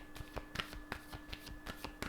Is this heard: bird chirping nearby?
no